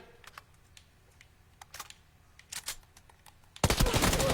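Gunfire in a shooter video game, scattered sharp clicks and shots building up, then a loud, dense burst of rapid fire at the end, with no talk.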